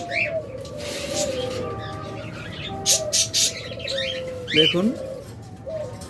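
A pair of doves coo softly and repeatedly at close range, with a few light chirps from other caged birds and a brief spoken word partway through.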